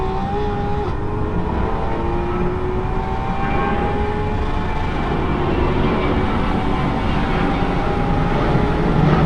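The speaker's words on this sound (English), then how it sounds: "another plane comes" An airplane roars overhead at a race track, its broad engine rumble swelling and holding loud with a slowly gliding whine, with no one talking.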